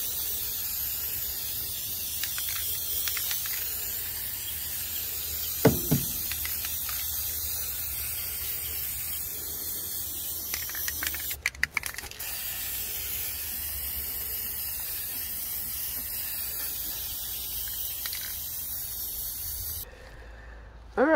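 Aerosol spray paint can hissing in a long, steady continuous burst, close and loud, while repainting a metal file cabinet for garden beds, with brief clicks and knocks partway through and a short pause near the end.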